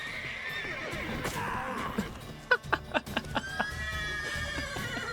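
A horse whinnies loudly in the video game The Witcher 3, followed by a quick series of hoof clip-clops, close and clear.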